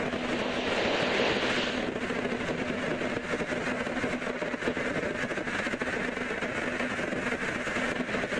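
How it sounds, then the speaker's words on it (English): Southwest Boeing 737 airliner at Seattle airport, a loud continuous jet engine roar holding steady and close throughout, with no voices. "Southwest Boeing 737."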